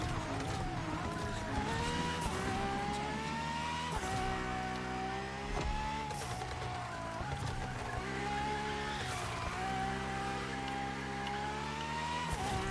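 Ferrari FXXK supercar driven in the video game The Crew Motorfest, a steady high-pitched engine whine with shifting revs, tire squeal and music layered over it throughout.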